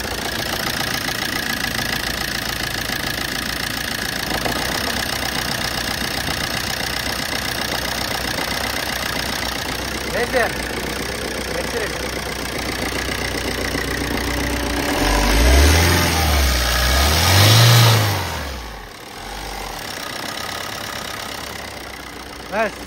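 A 2011 Maruti Swift VDI 1.3-litre diesel car engine idles steadily at close range, with a low rumbling hum that swells briefly twice near the end, and faint voices underneath.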